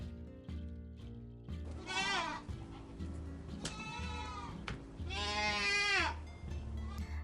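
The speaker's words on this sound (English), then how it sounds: "G for goat." A goat bleats three times, each a wavering, nasal cry that grows longer and louder toward the end, over a soft, steady musical backing with no speech.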